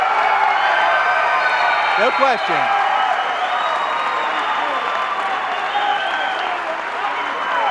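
A crowd at a high school wrestling match cheers and applauds in a steady, sustained roar, with a commentator talking over it.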